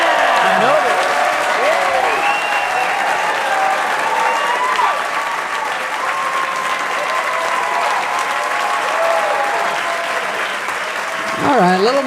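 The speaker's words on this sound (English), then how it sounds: "a little more applause than we got" Studio audience applauding for a guest's entrance, a loud sustained wave of clapping lasting several seconds, with scattered whoops and voices mixed in and a speaking voice near the end.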